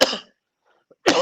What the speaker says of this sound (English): excuse me in advance for any coughing that I do